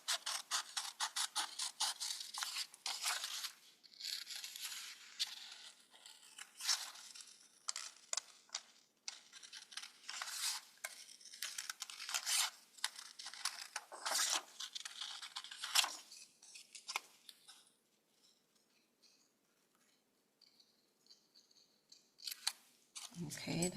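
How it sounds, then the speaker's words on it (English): Scissors snip through paper in quick clustered bursts of crisp cuts, with brief pauses between runs, while the paper is trimmed along a drawn line for a paper roll tulip craft; someone talks intermittently over the close cutting. "So let me start to cut it out. Follow the line and cut it out."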